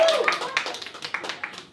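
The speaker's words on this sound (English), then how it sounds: "Now clapping will kind of help me" A live audience clapping at an event, a brief burst of scattered claps at mid distance, with a voice speaking over it.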